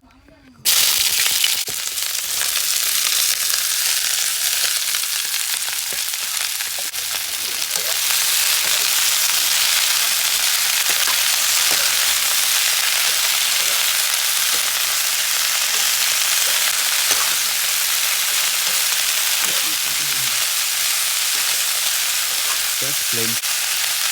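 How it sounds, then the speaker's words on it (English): Mixed vegetables frying in a little oil in a pan, a bright, continuous sizzle that flares up sharply and stays loud throughout, with occasional stirring clatter and faint talk beneath. "I'll use just a little bit of oil first for just frying the veg."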